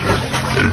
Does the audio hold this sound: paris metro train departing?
no